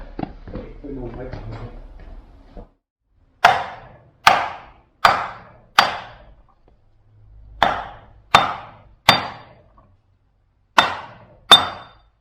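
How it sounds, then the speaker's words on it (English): Eight sharp metallic hammer blows drive a metal part into the front axle of a vintage 1970s vehicle, spaced about a second apart with ringing decay, following a stretch of low talk and rustling near the start. "Yeah, I need a bigger hammer."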